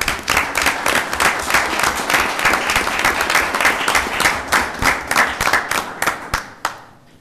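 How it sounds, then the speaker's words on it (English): A council meeting audience claps together in a steady round of applause, dense broadband patter with individual claps sharpening toward the end as it thins out and stops. "Let's give him a round of applause."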